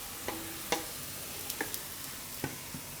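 Leftover roti frying in oil in a pan as a Gujarati snack, with a soft steady sizzle close by and a few crisp taps and clicks of a spatula, and no voices.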